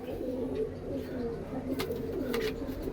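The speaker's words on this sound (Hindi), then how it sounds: "एक नंबर के कबूतर आए हैं पंजाबी" Punjabi pigeons, a pure-bred pair kept for flying contests, give low, soft coos repeating through the clip over a steady murmur, with a few light flutters and chirps.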